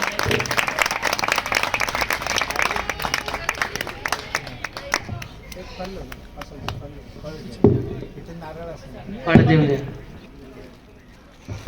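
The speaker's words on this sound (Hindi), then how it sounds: "सभी की तरफ से खूब सम्मान है, सभी ने तालियों के द्वारा स्वागत करना है।" Crowd applause welcoming a guest at a religious gathering during a padyatra in Dehradun, quick overlapping claps that thin out midway, with voices talking over and after them.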